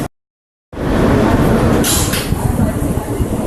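An R160 Q subway train running Manhattan-bound on the Brighton local, a loud steady rumble and roar from inside the car starting after a brief silence, with a hissing burst partway through.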